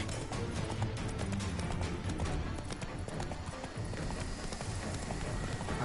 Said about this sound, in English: But we're riding a horse.